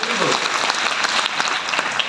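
Vigorous applause from an audience at a motivational speaking event in Mumbai, sustained and fairly loud throughout, with a voice briefly audible near the start under the clapping.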